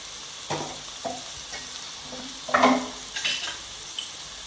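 Tomato, onion, sambar powder, chilli powder and salt fry in a pan for an egg chops gravy, with a steady sizzle and a few stirring scrapes and clinks of the spoon against the pan, close by and with no talk.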